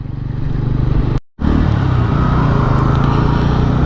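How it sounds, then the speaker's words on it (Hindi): A Bajaj Pulsar P150 motorcycle's exhaust gives a loud, steady, bassy drone close by, broken by a brief dropout before it carries on unchanged. "जो ये एग्जॉस्ट जो साउंड प्रोड्यूस करता है, एक बहुत ही बेस नोट है उसमें, बहुत ही बढ़िया है"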